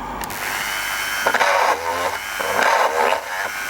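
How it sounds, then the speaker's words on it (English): A drill bores a slightly larger hole through a workpiece before routing, with a few short, uneven whirring bursts at moderate volume. "I'll put a slightly larger drill through it before I put the router bit"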